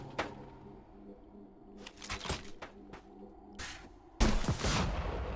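Rocket rifle fire in the video game ADACA Zone Patrol: several sharp, loud blasts spaced irregularly over a low ambient game hum, ending in a heavier, sustained explosive burst.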